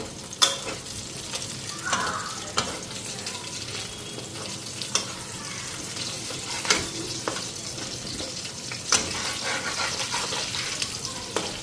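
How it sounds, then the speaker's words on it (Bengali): Fish frying in a pan at a home kitchen, a soft steady sizzle running throughout with occasional clinks and stirring sounds, fairly quiet and close, no talking. "মাছটা এক পিঠ ভাজা হয়ে গেছে"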